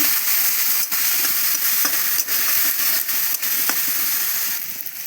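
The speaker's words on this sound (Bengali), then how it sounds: "একটু জল দিয়ে কষাবো ভালো করে কষিয়ে নেব" Masala for a cabbage fritter curry is sautéed with a little water in a pan, giving a loud, continuous close sizzle broken by occasional stirring scrapes.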